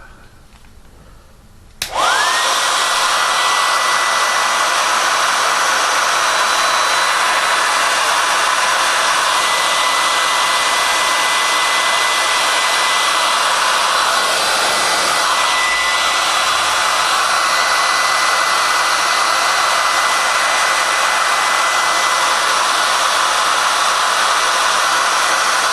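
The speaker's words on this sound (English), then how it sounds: "I'm going to use a hair dryer to heat it up." A hair dryer heats the front sight of a Glock 34 pistol, clicking on after a brief quiet moment and then blowing as a loud, steady, close rushing whine that holds for over twenty seconds.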